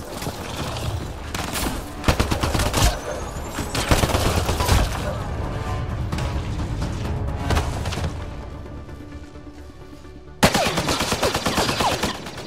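Heavy, continuous gunfire in Mass Effect Andromeda, overlapping bursts and impacts from several weapons in a chaotic firefight, loud and sustained with brief lulls and a sharp renewed volley near the end; voices are faintly present.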